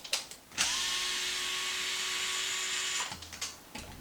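A power driver on a Traxxas Maxx RC truck spins out a tie rod screw, one steady whirring run of about two and a half seconds, close and loud, with small handling clicks before and after.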